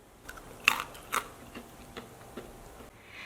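A crispy batter-fried peanut is bitten and chewed close up, a couple of sharp crunches followed by softer rhythmic chewing clicks, quiet and without talk.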